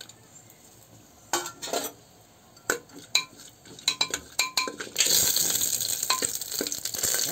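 Whole spices like bay leaf, black and green cardamom and cinnamon hit hot mustard oil in a pan, with a few metallic clinks before a steady, loud sizzle takes over up close.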